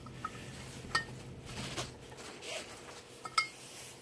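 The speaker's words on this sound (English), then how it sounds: "I'm going to take a socket and just push it down a couple times" A metal socket pushed down a few times on a part of an Integra being converted into a pickup, giving faint scattered clinks and taps in a quiet workshop.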